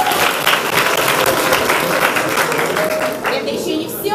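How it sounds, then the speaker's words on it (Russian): Loud, dense applause from a crowd at a New Year comedy contest performance by a team of teachers, sustained and close throughout with no break in the clapping. "Аплодисменты, пожалуйста."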